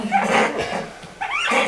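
An angry baby raccoon gives a series of harsh, high-pitched squeals and chattering cries, close by, in two bursts separated by a short pause.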